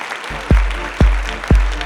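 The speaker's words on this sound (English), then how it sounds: "round of applause for this wonderful team up here" An audience at a real-estate industry panel event claps in a sustained round of applause, with three evenly spaced low thumps standing out beneath the crowd noise.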